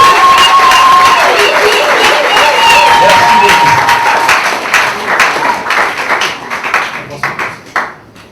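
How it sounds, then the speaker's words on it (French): Wedding guests cheer and applaud the newlyweds at an official ceremony, a loud mix of clapping, shouts and a high tone in a crowded room, fading and thinning toward the end. "nous vous prions de les acclamer très fort"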